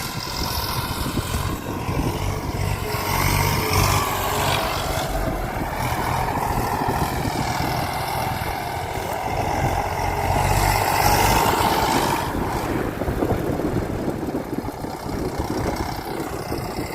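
A tractor engine runs steadily through the whole stretch at a constant, moderately loud drone, heard close by on a farm under hot sun, with no voices over it.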